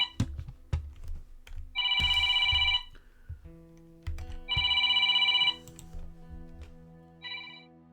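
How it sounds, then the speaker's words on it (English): A phone ringing close to a microphone, two bursts of electronic ringtone trilling and a brief third, mixed with clicks and a low hum, with no talk. "before my phone started ringing right into the microphone"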